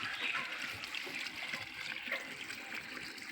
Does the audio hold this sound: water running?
yes